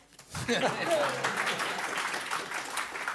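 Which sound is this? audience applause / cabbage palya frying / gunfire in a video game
audience applause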